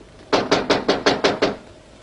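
Seven firm knocks on a door in quick, even succession, close and crisp, with no talking over them.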